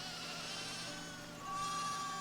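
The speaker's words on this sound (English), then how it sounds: "We're gonna spawn so many freaking sheep." Sheep in the video game Foundation bleat softly over a steady game background, their calls blending into an even, moderately quiet ambience with a slightly louder stretch near the end.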